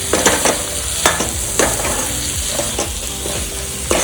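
Cubes of paneer sizzle loudly in a hot pan of masala, with repeated sharp scrapes and knocks from a spoon as they are stirred and coated, close up and without any voices.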